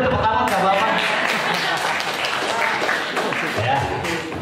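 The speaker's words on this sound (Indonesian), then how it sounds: "ya boleh tepuk tangan nggak Bapak?" Audience applause at a drug-abuse awareness talk for young people in Indonesia, a steady wash of clapping lasting several seconds, with voices mixed in.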